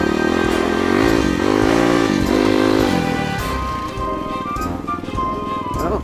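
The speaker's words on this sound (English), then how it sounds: "I told you one of these days I was going to learn how to jump that log." A dirt motorcycle engine revving continuously and loud while riding up and over a log, pitch rising and dipping as the throttle changes.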